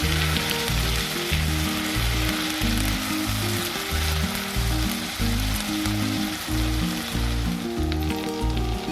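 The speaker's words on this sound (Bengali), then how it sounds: "এবার আদা, রসুন আর কাঁচা লঙ্কাটা একটু ভাজা ভাজা করে নেব।" Ginger, garlic and green chilli paste fries in ghee with a continuous bright sizzle, heard under rhythmic background music throughout, with no talking.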